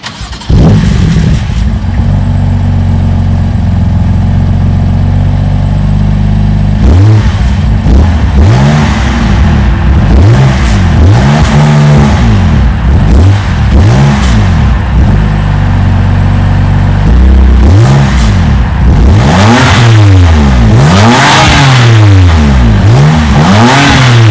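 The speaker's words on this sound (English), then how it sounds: "let's check out the startup and some of the exhaust sound of this amazing BMW M3 CS" A BMW M3 CS starts up with a loud bark, then its exhaust settles into a steady rumbling idle before a series of sharp, rising and falling revs grow more frequent and aggressive toward the end.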